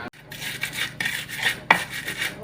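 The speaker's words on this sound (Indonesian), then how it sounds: "Goreng sego, guys." A metal spatula or spoon scrapes and clanks against a pan while rice is fried, in several separate rasping strokes with short pauses between them, close and moderately loud.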